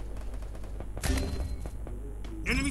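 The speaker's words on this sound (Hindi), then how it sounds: "धमाके शुरू हो गए हैं" Gunfire and explosions from the video game Free Fire come as a string of sharp rapid shots and heavier bangs over steady game ambience, with one louder burst near the middle.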